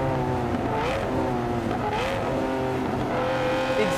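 Lamborghini Aventador accelerating on the Dubai Autodrome race track, a loud, continuous close-up engine roar with rising and shifting pitch across several gear changes.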